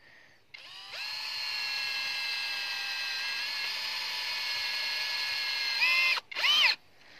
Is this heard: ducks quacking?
no